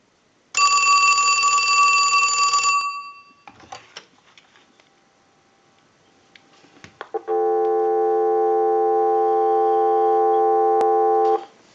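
An AT&T 2554 telephone's bell rings loud and clear in one burst of about two seconds, then after a pause with faint handling clicks a steady dial tone comes in and holds to the end.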